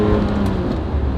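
A Ferrari 456 engine revs loud and close, a dense, sustained mechanical roar with no talk over it.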